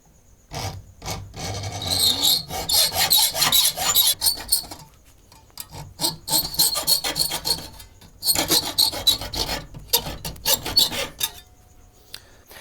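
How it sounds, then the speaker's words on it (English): Hacksaw cutting a small groove into a wire tightener, giving loud rasping back-and-forth strokes in two long bursts separated by a short pause, close up with no talking. "the very easy way of doing it is just with a hacksaw"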